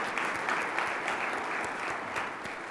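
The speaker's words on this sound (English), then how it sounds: "Round of applause for the panelists." An audience at a Columbus Metropolitan Club panel discussion applauds the panelists, a steady even wash of clapping from a full room throughout, moderately loud and unbroken.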